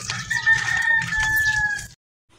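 A rooster crows once at close range in a loud, drawn-out cock-a-doodle-doo that holds steady for almost two seconds and then cuts off, leaving silence with only a faint noise at the very end.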